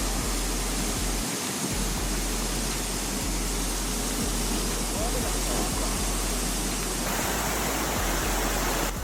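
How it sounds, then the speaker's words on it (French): Water gushing from a broken water pipe sprays over a tree canopy in Ningbo, a loud, steady hiss and rush of falling water with a voice talking over it. "une conduite d'eau cassée s'est combinée à la canopée des arbres, créant une belle fontaine"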